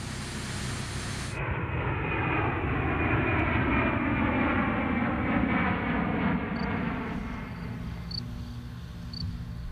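A giant Airbus Beluga cargo plane flies overhead, a loud steady engine roar and broadband rumble that holds for several seconds, with a few faint chirps on top.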